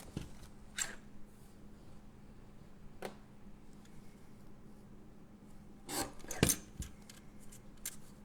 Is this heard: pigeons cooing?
no